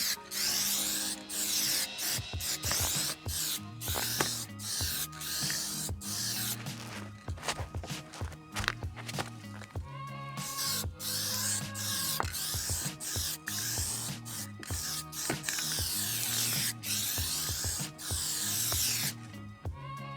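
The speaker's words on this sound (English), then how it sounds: "it's the final coat of clear going on and we'll be done" A spray gun lays a final clear coat onto a rust-repaired car door, a steady hiss running continuously for the whole stretch beneath a busy, layered background of music-like tones and sharp clicks.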